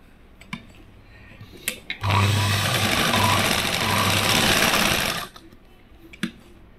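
A sewing machine stitching a katori blouse runs in one continuous burst of fast stitching for about three seconds, loud and close, with faint clicks before and after.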